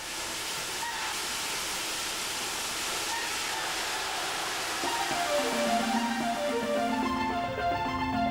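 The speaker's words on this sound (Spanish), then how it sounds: "El agua, según sale de las galerías, se deja correr libremente por el fondo de los barrancos" Water pours freely from the Risco Liso gallery into a ravine in La Caldera de Taburiente, a steady, loud broadband rush throughout, with a few tonal notes emerging toward the end over the constant flow.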